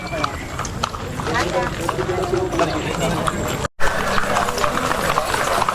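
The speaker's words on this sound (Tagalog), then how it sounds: "Yan, iba't ibang kabayo. Mga ready na ang mga kabayo." Several horses' hooves clip-clop on the ground during the Juego de Anillo event at the Mayohan Festival in Tayabas City, a busy, irregular clatter close by under a speaking voice and crowd noise, with a brief dropout midway.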